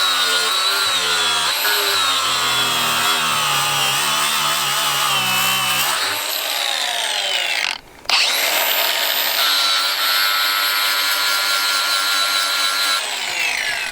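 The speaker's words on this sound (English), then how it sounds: "Where's my grinder?" An angle grinder shims down a hump on a farm retaining wall with a loud, continuous high whine that drops briefly near the middle before spinning back up.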